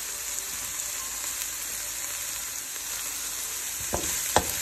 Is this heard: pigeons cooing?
no